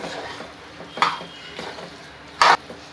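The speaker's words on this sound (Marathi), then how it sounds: "ते आता मी मिक्स करून घेते" Chicken curry being stirred and mixed in a pressure cooker pot on a low gas flame, with a few sharp metallic clinks of the spoon against the pot over a quiet background.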